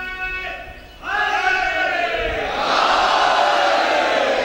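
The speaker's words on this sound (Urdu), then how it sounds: "اتنا بڑا مجموعہ نعرے ایسے لگا رہے ہیں آپ۔" A large gathering chanting slogans in unison at a religious majlis in Lucknow style, swelling into a loud sustained roar of many voices after a single raised voice leads the call.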